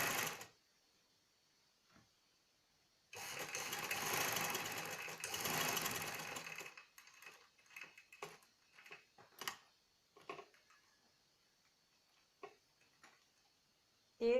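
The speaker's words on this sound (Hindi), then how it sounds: "हल्के हाथ से इसकी सिलाई लगा दें" A sewing machine stitches a folded hem of velvet fabric, running in one close, continuous rattling burst of about four seconds, followed by scattered clicks and taps of handling.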